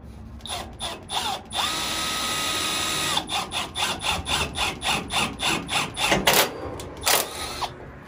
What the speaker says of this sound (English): So I'm going to take it over here and drill a little hole in her.